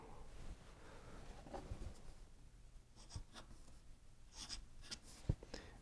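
A fountain pen with a broad architect nib scratching strokes across paper, faint soft scrapes and light taps up close, alone.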